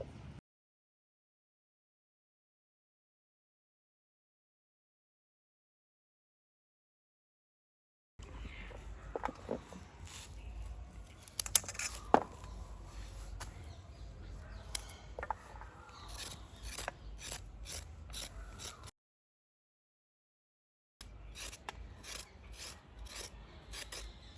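Carrots being peeled for homemade carrot pickle, giving a steady raspy scraping that starts after a long silence, runs close and fairly quiet for about ten seconds, stops, then resumes briefly.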